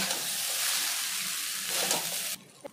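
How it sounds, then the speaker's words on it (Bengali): Chicken being stirred into chow mein in a hot pan, a steady hissing sizzle with scraping and tossing noises that cut off abruptly near the end, no talk. "এখন আমি চাউমিনের মধ্যে দিয়ে দিচ্ছি চিকেন চিকেনটা চাউমিনের সঙ্গে মিশিয়ে নেব"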